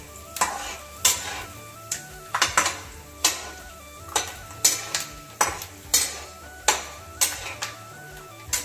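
Peanuts frying in oil in a wok, sharp rhythmic scraping and rattling stirs every second or so over a low sizzle, close and fairly loud, with no talk.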